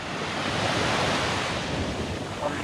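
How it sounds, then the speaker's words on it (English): Ocean waves washing onto a calm summer beach at Jupiter Island, heard as a steady, continuous surf wash close by with no wind and no voices. "there's gonna be some wave noise here, but we don't have any wind"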